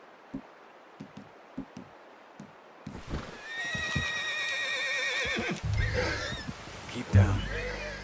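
In the video game Red Dead Redemption 2, a horse gives a loud, quavering whinny after a few hoof clops, with snorting and further movement at close range.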